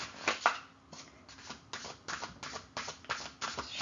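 Oracle cards being shuffled by hand in a series of quick riffling bursts, close and fairly quiet, with short pauses between them.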